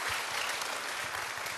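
An audience claps together in a steady, even burst of applause at a televised talk, dense and continuous without voices.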